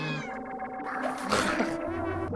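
A kitten meows in the puzzle adventure game Chuchel, a short tonal cry with rising and falling pitch, close and moderately loud over a busy layer of game music and effects.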